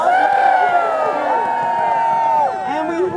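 A huge crowd gathered for Groundhog Day in Sun Prairie cheers and whoops continuously, with a voice talking prominently over the excited noise.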